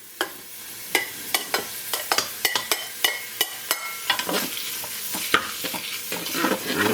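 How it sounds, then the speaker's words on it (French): Bite-sized pieces of chipolata sausage sizzle in a hot pan, a steady frying hiss broken by a run of sharp scraping stirs and utensil taps against the pan, close up with no talking. "Dès que ça commence un petit peu à dorer, vous mettez vos chipolatas"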